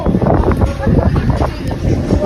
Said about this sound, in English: Windy island.